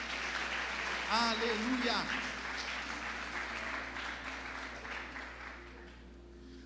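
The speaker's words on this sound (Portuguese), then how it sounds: "Você pode aplaudir o nome do Senhor, queridos?" A church congregation at a Portuguese-language worship service claps steadily at moderate volume while a voice calls out over it, the clapping gradually thinning toward the end.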